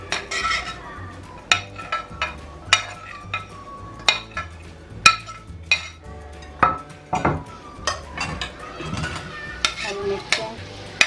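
Macaroni chana chaat with potatoes, chickpeas, green chillies, onion, tomato and lemon juice being stirred and mixed in a bowl, with close, irregular spoon clinks and scrapes against the dish over a soft music bed.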